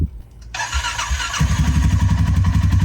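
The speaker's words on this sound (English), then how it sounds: "Fires right up." A 2024 off-road utility vehicle engine with 288 miles on it cranks briefly and then fires, settling into a loud, steady, close idle with no talking.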